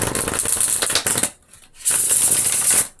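A deck of tarot cards is shuffled up close in two crisp riffling bursts separated by a brief pause, a papery flutter with no talking.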